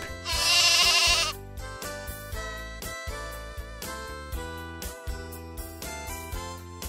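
A sheep gives one loud, quavering bleat near the start, then light rhythmic music with a bouncy beat carries on.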